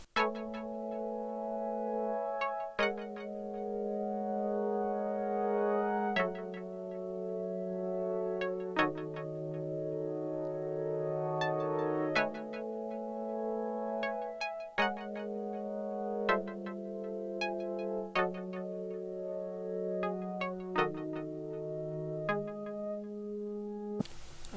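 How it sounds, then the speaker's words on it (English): Plucky polyphonic synth chords from a Podolsky TUC Pluck Poly preset in a vintage 80s-style sample, changing steadily every few beats with a soft attack and sustained tone, playing alone with no voices. "I just put them in a plucky sound now, which is from Podolsky, and the name of the preset is called TUC Pluck Poly,"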